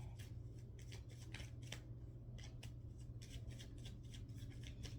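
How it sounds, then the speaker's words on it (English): Tarot cards are handled and pulled from a deck, giving a run of soft, dry papery rubs and flicks in quick bursts over a steady low hum, close and quiet, with no talk. "let's start pulling on the cards"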